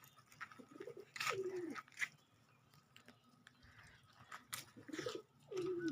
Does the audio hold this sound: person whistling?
no